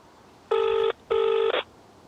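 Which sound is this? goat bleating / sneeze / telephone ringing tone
telephone ringing tone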